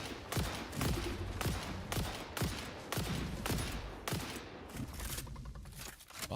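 Rapid gunfire in the video game Satisfactory, loud and close, firing in repeated bursts with sharp attacks and ringing tails, with a scraping texture near the end and no talking.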